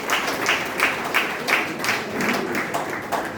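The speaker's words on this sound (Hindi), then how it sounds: "एक बार तालियां बजा दीजिए" An audience at a Hindi comic poetry gathering claps steadily, a dense patter of many hands with rhythmic swells, loud and close, with no voices.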